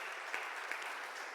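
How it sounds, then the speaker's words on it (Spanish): A church congregation gives a brief burst of steady, dense clapping, heard from a moderate distance at a fairly low level. "Mientras que le damos un fuerte aplauso a Dios"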